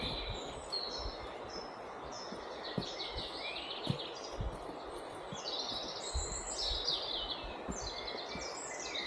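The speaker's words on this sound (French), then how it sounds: "il y a vraiment que le son des oiseaux ici" Birds sing and chirp in overlapping phrases in a gorge against a steady rushing background, like flowing water, fairly distant and continuous.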